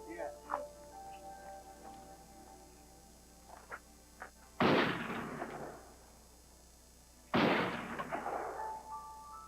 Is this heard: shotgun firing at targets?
yes